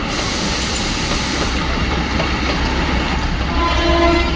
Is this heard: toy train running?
yes